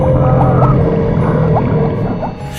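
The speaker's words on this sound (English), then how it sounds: "In 1997, scientists recorded a loud, strange sound deep in the Pacific Ocean." A loud, deep underwater sound from the Pacific Ocean, the so-called Bloop, fills the clip with steady low drones and short rising sweeps, like eerie whale-like calls, and no one speaks over it.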